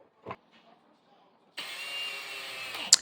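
A power drill drives a screw through the bottom vise jaw into a small built wooden platform on a shave horse: a faint knock early, then a loud steady whirring run for about a second and a half ending in a sharp click.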